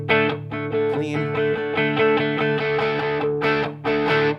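An electric guitar runs through an Ibanez TS9 overdrive pedal, playing rhythmic gritty chords with short choppy strums and brief pauses, the tone thick and moderately distorted throughout.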